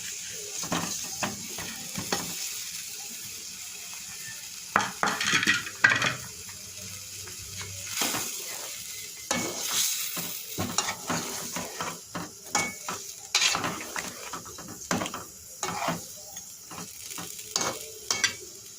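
Fried chicken pieces stirred into sizzling masala with sour yogurt for chicken roast, a busy crackling fry with repeated spoon scrapes and pan knocks throughout, close and fairly loud, no talk.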